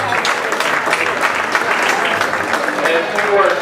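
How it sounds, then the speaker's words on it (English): Audience applause fills a football alumni hall of fame induction ceremony, steady dense clapping throughout with a slight swell near the end. "Let's have a round of applause."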